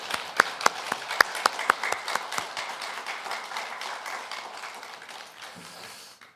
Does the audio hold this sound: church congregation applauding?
yes